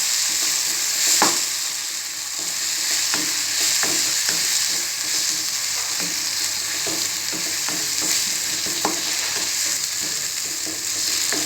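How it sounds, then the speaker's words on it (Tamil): Chili powder and masala sauté in a pan with a constant dense sizzle, punctuated by regular scraping clicks from a stirring spoon, close and loud with no talking. "இப்போது மிளகாய் தூள், நல்லா இதை வதக்கிக்கலாம்."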